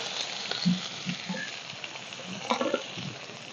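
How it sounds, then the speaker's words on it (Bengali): Chopped tomato, garlic cloves, green chilli and ginger sizzle in hot oil with a steady crackle, plus a few stirring clatters against the pan, close and moderately loud with no talking. "টমেটো কুচি রসুনের কোয়া দুটো কাঁচা লঙ্কা আর আদা কুচি এগুলো আমি একটু তেলের মধ্যে ভেজে নেব"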